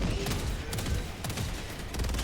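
Automated sentry turrets open fire in the Helldivers video game with dense, rapid bursts of loud gunfire that run continuously through the moment.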